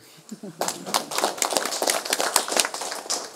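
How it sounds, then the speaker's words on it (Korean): After a moment of speech, a lecture audience at a senior citizens' college in Boeun breaks into brisk, uneven clapping from many hands that continues steadily, with some talk underneath. "박수 한번 쳐주세요."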